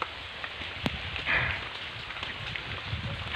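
Steady rain falls outdoors during a road trip in Bulacan, a dense broadband hiss of drops close to the microphone, continuous throughout with a few louder patters and no talking.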